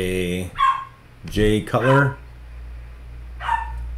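Dogs bark indoors in several sharp, harmonic bursts, loud and close, alternating with someone talking.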